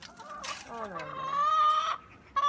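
Close chickens clucking and calling, with a rising drawn-out squawk from a hen or rooster in the middle and short clucks around it.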